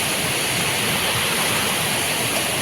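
A flooded river after heavy rain rushes steadily, a dense, loud, unbroken roar of churning water heard close by, with no voices over it.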